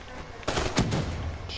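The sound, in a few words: gunfire from the video game Black Ops 3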